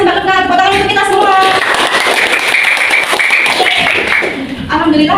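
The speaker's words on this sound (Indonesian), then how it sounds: "Tepuk tangan untuk kita semua." Children clap in a classroom, a dense patter of applause blended with excited young voices calling out together throughout.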